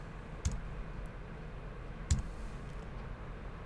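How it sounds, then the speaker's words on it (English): Two isolated clicks of a computer keyboard's backslash key being pressed, spaced well apart, faint and close against a quiet room hum. "if we hit the backslash key on our keyboard"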